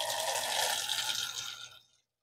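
Water running and splashing over an air filter being rinsed, a steady close broadband wash for about two seconds before it cuts off abruptly.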